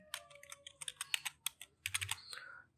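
Rapid typing on a computer keyboard for a website search, a close, dry burst of irregular key clicks in short clusters with brief pauses, heard alone.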